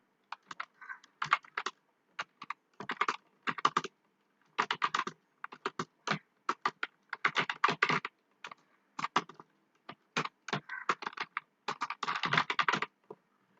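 A computer keyboard being typed on in bursts of rapid key clicks separated by short pauses, close and fairly quiet against a silent background, no talk.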